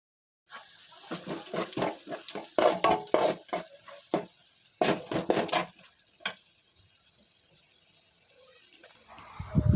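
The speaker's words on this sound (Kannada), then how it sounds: "ಮಾವಿನಕಾಯಿ ಇವಾಗ ಚೆನ್ನಾಗಿ ಫ್ರೈ ಆಗಿದೆ." Raw mango pieces stir-fried with turmeric powder in a pan for mango rice, a run of brisk, loud scraping and tossing strokes up close with a light sizzle beneath, easing off into quieter sizzling near the end.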